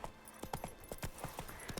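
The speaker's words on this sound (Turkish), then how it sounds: "Neyse birazcık at üstüne yolculuk yapalım değil mi?" Roach the horse gallops through Witcher 3 terrain, hooves striking in a quick, steady clip-clop rhythm, close and fairly loud, with no speech over it.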